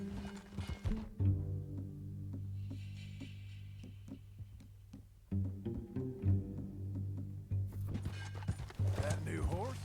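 Horse hoofbeats from a ridden horse in Red Dead Redemption 2, a steady clip-clop under game music with a brief whinny, and voices talking over the ride.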